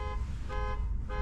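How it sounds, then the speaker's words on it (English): A parked car, the wife's vehicle, beeps loudly and close by in a repeating pattern of about three sustained electronic tones, with no voices over it. "I am not going to let you suffer through my wife's vehicle beeping at me."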